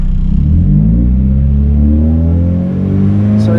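A Mazda Miata engine, being tuned for boost, revs loudly up close, its pitch climbing smoothly and steadily over a deep rumbling idle.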